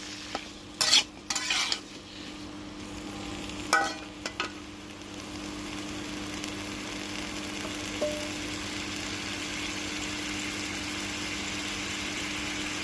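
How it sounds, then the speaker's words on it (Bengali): Green mango curry stirred in a pan, a few clattering spoon scrapes early on, then a soft steady sizzle running underneath, close and without talk. "আবার ভালো করে নেড়ে দেবো"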